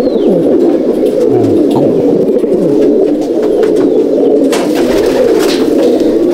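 Many breeder pigeons coo together inside a loft, a dense continuous murmur of overlapping low calls with occasional louder coos and wing flutters up close.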